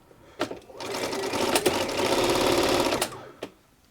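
Bernina 930 Record electronic sewing machine running a straight stitch: a steady, close whirring run of about three seconds, with mechanical clicks at the start and finish and no talking.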